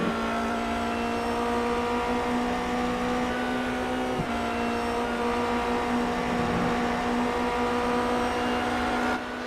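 Formula Renault race car engines at Road America in iRacing, a sustained high-pitched whine with steady harmonic tones and a brief dip as a gear shifts, loud and continuous without talk.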